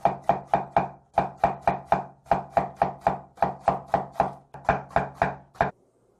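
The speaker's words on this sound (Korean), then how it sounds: "이렇게 엎어놓고 반달식으로 얇게 썰어주면 돼요" A knife slices a seeded overripe yellow cucumber, laid cut side down, into thin half-moons: roughly twenty crisp, close, evenly paced chops against a board, with one short pause midway and no talking.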